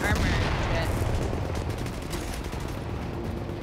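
Rapid automatic gunfire in Tom Clancy's The Division, a dense burst of shots that is loudest at the start and then settles into steady fire.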